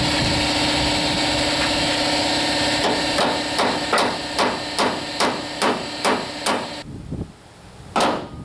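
Sharp metal hammer strikes drive a roller pin into a Chevy GMT400 truck door hinge, about nine evenly spaced blows over a steady engine-like hum, followed by a pause and one last louder hit.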